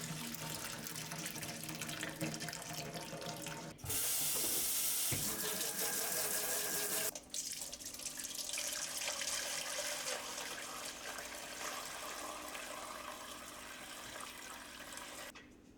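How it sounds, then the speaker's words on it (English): Pineapple skin tea pours through a colander into a bowl with a continuous splashing rush of liquid. The flow swells louder for a few seconds and then settles into a steadier stream and trickle. "Drain the mixture into the colander."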